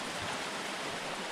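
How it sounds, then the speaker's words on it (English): Cold river water flowing at a spa area in Baile Herculane, Romania, a faint, steady rushing wash with no voices. "But now I'm going into the river, which I was told is very cold."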